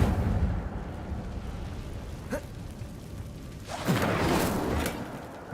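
An Incendio fire spell cast in the video game Hogwarts Legacy, a short whoosh and then a louder roaring burst of flame, near and fairly loud, with no talking.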